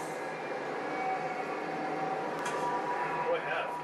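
A train rumbles along steadily in the Rise of Nightmares video game, a dense, even rolling hum with faint tonal whines layered on top.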